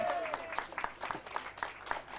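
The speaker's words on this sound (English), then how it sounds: "So give him a round of applause." Scattered hand clapping from a small crowd at a kart racing prize-giving at Whilton Mill, steady and moderately loud, with a faint tone sliding underneath at the start.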